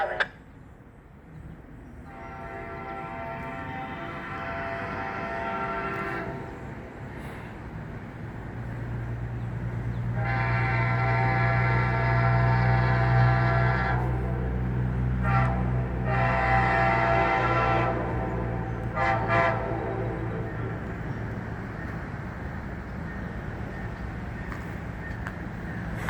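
Amtrak 305 passenger train stopping at White Sulphur Springs, West Virginia, sounds its horn in several long, loud blasts over the rumble of the train, with a steady low drone between them.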